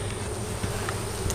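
Honeybees buzz in a steady, close drone at the top of a weak hive during a spring inspection, with no one talking.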